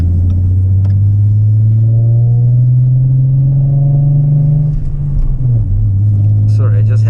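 A parked car's engine rumbles deep and steady after sitting unused for a month, with a low drone that shifts briefly near the end as the revs change.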